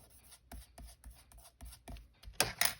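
Glued paper being trimmed for a scrapbook page pocket: a run of soft, close cutting and rubbing scrapes at an irregular rhythm, ending in two louder rasping strokes, with no talk.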